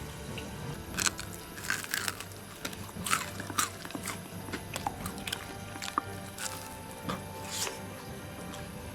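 Crispy homemade fried chicken is bitten and chewed up close, with irregular crunches and soft chewing sounds over several seconds.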